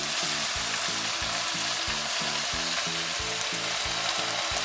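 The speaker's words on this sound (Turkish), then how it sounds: "Ve tavuğum her tarafı nar gibi kızardı" Chicken breast frying in a pan, a loud, continuous close sizzle with a regular pulsing crackle throughout and no voices.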